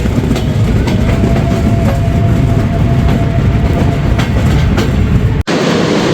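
Chitra Express train rolling into Ullapara railway station, a steady loud rumble and clatter of carriages on the rails with a faint sustained tone, cut by a brief drop near the end.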